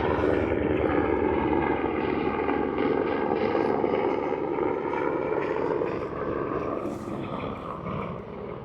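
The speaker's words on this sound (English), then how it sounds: "Oh, here comes a helicopter." A helicopter passes over snowy mountains, its steady rotor and engine drone loud and continuous, with layered harmonic whine that eases slightly toward the end.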